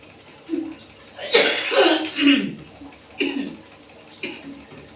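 A person in a healing session for shortness of breath and cough coughs several times in heavy, rasping bursts, close by, with brief voiced sounds between.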